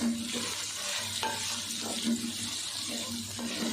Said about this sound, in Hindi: भिंडी और प्याज दोनों हम अब मिक्स करके 5 मिनट और फ्राई करेंगे।